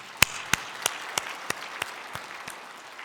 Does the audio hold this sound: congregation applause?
yes